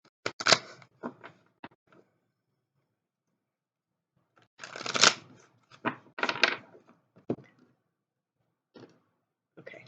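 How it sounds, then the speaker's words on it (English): Quick riffle shuffles of a deck of playing cards come in two short bursts of crisp fluttering clicks, separated by a quiet pause and followed by a few scattered taps, close and fairly soft. "so a couple more quick shuffles."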